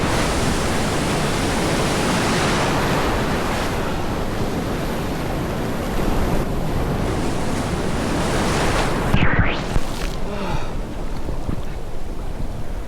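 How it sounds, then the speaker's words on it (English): Ocean waves break continuously along the coast of Scotland, a loud, dense wash of surf with no pauses. A brief whooshing swirl comes near the end, as if water rushes close by. "There's some decent sized waves coming my way."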